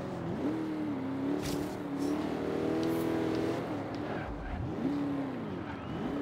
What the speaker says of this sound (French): Fait un bruit de moteur extrêmement étrange, cette Holden HQ.